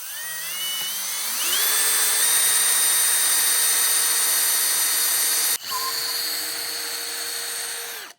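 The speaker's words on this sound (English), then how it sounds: "I hope this drill works." A power drill whines loudly as it bores into a wooden log, revving up at the start, cutting out for an instant, then grinding on steadily.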